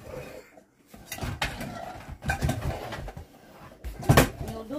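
A metal frying pan clanks and scrapes as it is handled, with several sharp knocks and rattles of kitchenware at irregular moments.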